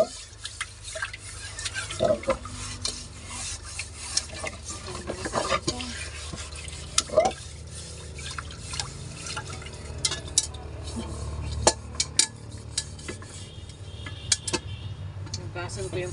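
A cooking pot being washed in a home kitchen: water drips and trickles with scraping, stirring and clattering sounds that go on for the whole stretch, set over a steady low background hum.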